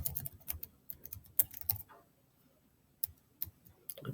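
Someone types an SQL SELECT command on a computer keyboard, producing quiet, close clicks in irregular bursts with a short lull partway through.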